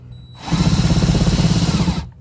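A power drill whirs steadily for under two seconds, spinning up, grinding at a constant pitch, then stopping abruptly.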